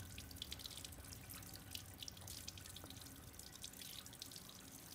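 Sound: water tap running in video game Resident Evil Village

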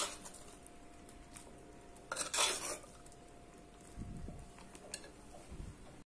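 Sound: stirring boiled sundal into jaggery water in a pan

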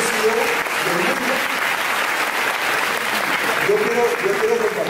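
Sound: audience applause for CEO Bill Farley

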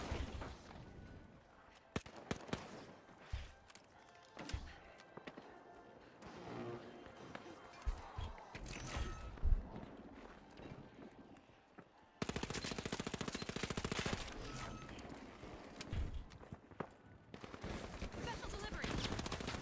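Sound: gunfire in the video game The Finals

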